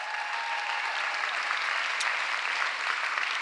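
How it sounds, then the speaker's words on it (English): Steady audience applause at a Philadelphia State of the City address, dense and even throughout with no talk over it. "Give her a round of applause."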